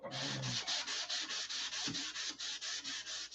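Close, rhythmic sanding by hand, with steady back-and-forth rasping strokes at an even pace and no voices.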